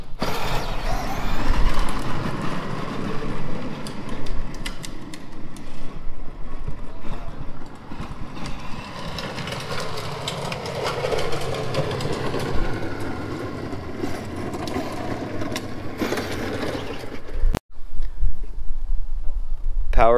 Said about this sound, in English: Power wheels, 54 volts.